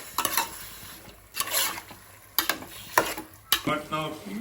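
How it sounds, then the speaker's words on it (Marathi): Mutton being stirred in a pot for biryani: a few scraping, clattering strokes of a spoon against metal in separate bursts, with a soft sizzle between them and no talking. "मटन टाकून घेतल्यानंतर नंतर असं हलवून घ्यायचं"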